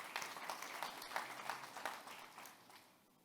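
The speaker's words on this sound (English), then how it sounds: "Once again, round of applause for that." An audience claps after a speech at a summit: steady, moderately distant applause from a crowd that gradually thins and fades out toward the end.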